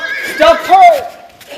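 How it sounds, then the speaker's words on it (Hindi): Horse neigh in a Hindi stage play, with a horse-drawn carriage being stopped on a road to Johannesburg; two rising-falling whinny calls sound close and loud, overlapping with voices talking. "उन्होंने एक घोड़ा गाड़ी रुकवाई।"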